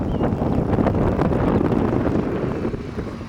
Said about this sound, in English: There's a breeze blowing out here today, as you can see. The cattails blowing in the wind.